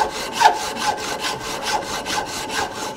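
A hand saw cuts through a deer antler in steady back-and-forth strokes, about six rasping passes in three seconds, close and fairly even in loudness with no talk.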